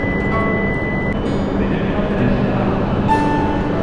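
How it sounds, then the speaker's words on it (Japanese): The last Yamabiko 73 Shinkansen train of the night departs Morioka Station, a loud, steady rail rumble close by with a constant low roar and no break throughout. "やまびこ73号盛岡駅、こちらが最終列車ですね"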